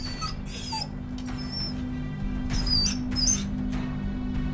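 Several dogs next door give high, thin yips and whines at a moderate distance, scattered across the clip over a steady low hum, with no talking.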